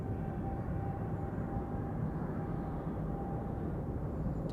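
A Swiss Boeing 777 bound for Tokyo departs Zurich Airport, its jet engines a steady, broadband roar that holds evenly throughout at a moderate distance, with no talk over it.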